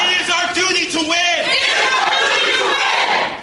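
A large crowd of protesters outside the Allegheny County Courthouse in Pittsburgh shouts and chants loudly and close by, many voices blending into a continuous roar.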